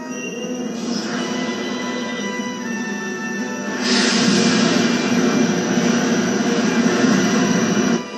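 Spaceship lateral engines run at full power in the video game Star Ocean, a steady broadband jet-like roar that surges louder about halfway through and holds until cutting off near the end.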